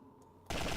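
A short, loud burst of G36 assault rifle fire in a video game cuts in abruptly after a quiet moment, dense and rapid like an automatic volley.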